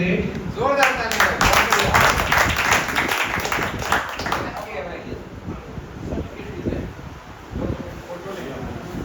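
Dense, loud clapping from a group bursts out at a computer course batch farewell as a student's grade is presented, then fades while voices begin talking over the thinning applause.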